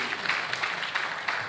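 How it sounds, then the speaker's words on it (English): Audience applause at a stakeholders' engagement event on safety practice, a steady patter of many hands clapping through the room, moderately loud and continuous with no talk over it. "thank you for clapping again"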